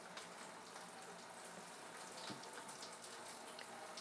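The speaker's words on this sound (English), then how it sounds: "this splashing action here provides oxygen that the yeast are going to need here in just a little bit" Wort for a Scottish 70 Shilling homebrew ale splashes from an auto siphon into a fermenter, a quiet, continuous trickling and spattering of liquid with no talk.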